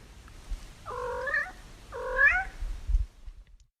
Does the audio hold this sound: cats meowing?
yes